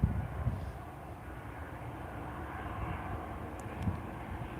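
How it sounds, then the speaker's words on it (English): A Boeing 737-800 comes in to land at Tenerife Airport as a low, distant jet rumble with a steady airy roar and no talk over it. "Here's a 737-800 series aircraft just about to land."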